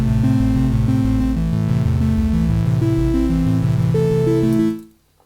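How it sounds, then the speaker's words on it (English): Teenage Engineering OP-1 arpeggiator stepping through synced notes in a steady pattern, low and mid pitches moving over a sustained bass, loud and up front before fading out at the end. "it works almost like a normal arpeggio"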